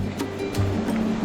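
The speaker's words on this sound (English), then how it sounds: "the water running down the river" River water rushing along a forest hiking trail near Lake Marian in New Zealand, a close, steady broadband wash of flowing water with faint low tones under it.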